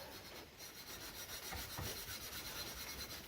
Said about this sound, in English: I also put a bit of wax on the bottom of the banjo